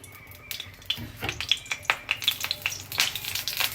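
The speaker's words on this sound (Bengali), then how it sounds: "তেলটা ছিটছে, বুঝতেই পারছো।" Hot oil spattering in a pan of frying potatoes, irregular sharp crackles and pops over a steady sizzle, loud and close, with no talking.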